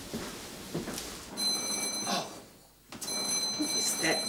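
A bell rings late at night, with repeated bright ringing tones sounding in two bursts at moderate loudness, separated by a brief quiet gap, with some background voices nearby.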